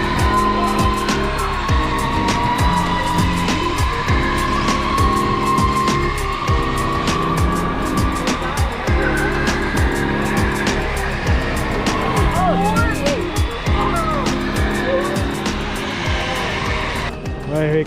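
Racing go-kart engine roars steadily around the track during a teen Grand Prix qualifying session, a loud continuous buzzing drone with shifting pitch as the kart leaves the pit area.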